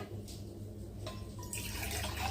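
Water poured steadily into a cooking pot over chicken pieces for mandi-style chicken biryani, a continuous close splashing stream with no talking.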